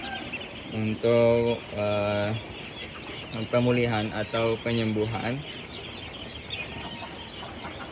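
Ducks on a duck farm give loud, repeated honking quacks in a few close bursts, and someone talks in the background before the calls fade out.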